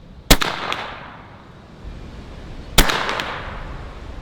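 Two sharp airgun shots from a long-barrel rifle aimed at a paper target, spaced about two and a half seconds apart, each a crisp close crack followed by a short fading tail, with no talking.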